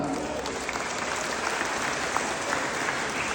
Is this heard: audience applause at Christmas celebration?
yes